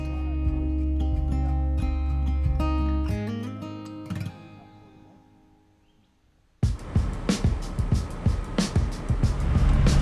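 A 40 series four-wheel drive on a rugged Fraser Island track: a steady engine drone, a brief lull, then loud, rough rattling and rumbling with repeated jolting thumps as it bounces along.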